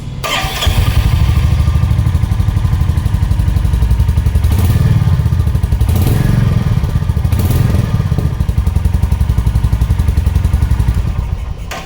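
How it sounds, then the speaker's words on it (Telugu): A stock-exhaust Royal Enfield Meteor 350 engine runs close by, a steady, loud, even thumping with a faint clattery edge that holds for the whole stretch with no talk over it. "స్టాక్ సైలెన్సర్స్ ఏవైతే ఉంటాయో మీకు మరీ అంత లౌడ్ అయితే ఉండవు"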